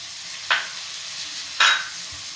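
Beans, green peas and carrot sautéing in a pan for veg pulao, with two short sizzling bursts as the vegetables are stirred, close and fairly quiet, between softer stretches of low frying.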